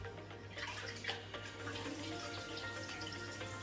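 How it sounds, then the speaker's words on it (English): Rice being washed in water for Gambian mbahal, a steady running, sloshing wash of water with light splashes and no talking. "So now I'm going to wash the rice."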